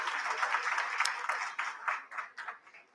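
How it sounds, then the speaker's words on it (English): Hall audience at a Pakistani leadership conversation event gives a short round of applause, dense at first and then thinning into scattered individual claps that fade out within three seconds. "Round of applause."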